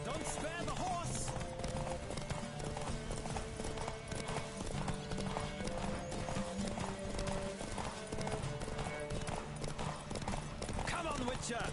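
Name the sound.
horse galloping in a race, video game The Witcher 3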